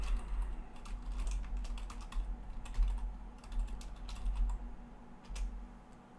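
Keys clatter on a computer keyboard as a macro name is typed, a quick run of soft, close clicks in irregular bursts over a low steady hum, with no talking.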